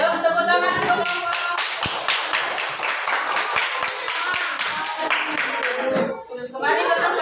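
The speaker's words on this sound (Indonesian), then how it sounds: "yuk tepuk tangan untuk kelompok" Schoolchildren in a primary classroom clap for a group after its presentation, a dense run of close, sharp hand claps with young voices chattering underneath, briefly thinning near the end before picking up again.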